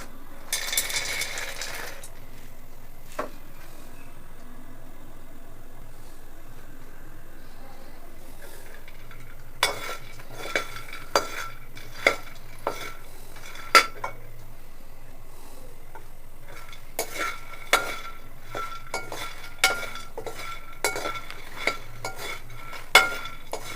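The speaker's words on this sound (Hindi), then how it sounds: "तो सबसे पहले आइए फूल मखाना जो है इसको फ्राई करते हैं।" Fox nuts (phool makhana) being fried and stirred in a pan over low heat for panjeeri, with scattered clinks of a utensil against the pan and a faint sizzle, sparse at first and more frequent later.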